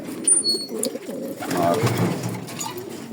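Pigeons coo steadily in a loft, several birds close by with overlapping low throaty calls and a few brief higher chirps, while someone briefly speaks.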